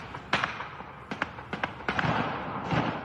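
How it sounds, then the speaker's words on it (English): Several sharp, cracking gunshots ring out at irregular intervals during a terror attack on a Turkish defence firm, some in quick pairs, fairly distant and echoing over a low background rumble. "The sound of gunshots pierced the air"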